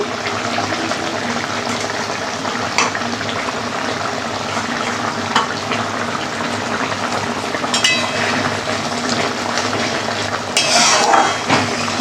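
Boal fish curry with coriander leaves bubbling in a pan, a dense, fairly loud continuous sizzle and simmer with occasional stirring scrapes and a brief splashy surge near the end.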